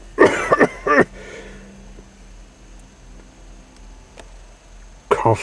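A voice imitating a weak, sickly cough, with a couple of short raspy coughs up front and another cough after a quiet pause, close and clear.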